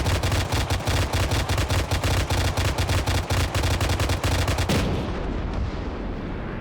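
Rapid, dense gunfire rattles loudly and continuously in a German versus Russian combined-arms PvP video game battle, then cuts off abruptly into a fading echoing tail.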